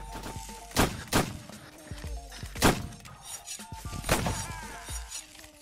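Musket volleys in the Mount and Blade Warband Napoleonic Wars game, with several loud sharp cracks spaced about a second apart and separate reports landing in the background.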